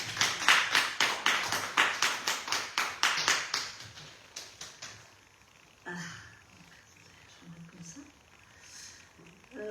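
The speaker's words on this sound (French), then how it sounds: "Nous l'applaudissons" A small church congregation claps in a quick rhythmic run of distinct, fairly close hand claps that fades out after about four seconds, leaving quiet room sound and faint voices.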